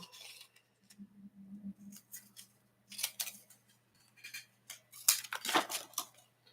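Scissors snip through die-cut paper gift packaging in a quiet room, a run of short crisp cuts coming in uneven bursts, close and moderately loud with brief pauses between.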